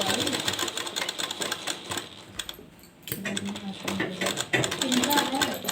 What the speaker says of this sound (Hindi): इसी तरीके से पूरा हम लास्ट तक सिल लेते हैं इसको।